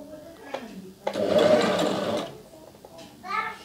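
A Jaguar HD3000 portable sewing machine runs in one smooth, steady burst of stitching lasting about a second, loud and close. Quiet speech comes before and after it.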